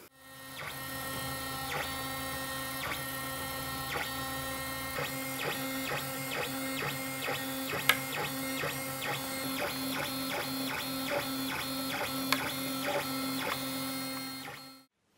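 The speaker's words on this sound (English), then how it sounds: "So what I was just 3D printing there were these things, which are basically a piece of Ninja Flex on top of some ABS and an ABS piece." A 3D printer lays down Ninja Flex on top of ABS parts. Its stepper motors whir and buzz in steady, layered tones with regular rhythmic pulses and occasional clicks, running close and continuously for the whole stretch with no voices.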